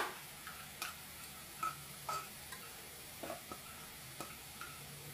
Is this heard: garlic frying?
yes